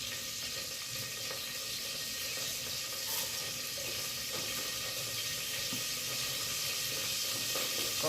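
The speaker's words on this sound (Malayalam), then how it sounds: "നമ്മൾ സാധാരണ കടുക് പൊട്ടിക്കുന്നത്, ഇച്ചിരി കടുക് ഇട്ടു." Mustard seeds, split black gram and chana dal frying in hot oil for broken wheat upma, a steady bright sizzle that continues unbroken and fairly loud throughout.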